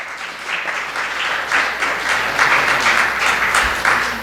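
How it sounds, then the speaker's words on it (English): Audience applause filling a church during a sermon service, steady dense clapping from a crowd, sustained and fairly loud throughout with no voices over it. "Let's give her a round of applause."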